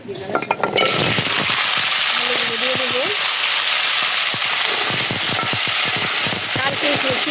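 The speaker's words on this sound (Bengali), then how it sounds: "এখন আলুর রসাটা রান্না করব" Potato curry sizzles and fries in a pan, a continuous loud hiss broken by clinks and scrapes of a stirring spoon against the metal, with a brief voice near the start.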